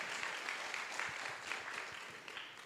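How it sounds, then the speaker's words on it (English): Applause at a meeting, many hands clapping in an even, fairly faint wash that holds steady from start to finish with no voices over it. "Would everybody give them a round of applause"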